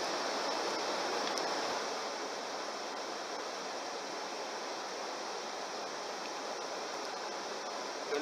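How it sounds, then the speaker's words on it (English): A backcountry waterfall on the Magnetawan loop near Island Lake roars as a steady, dense rush of falling water, a constant mid-distance wash with no voices. "I've arrived at a waterfall."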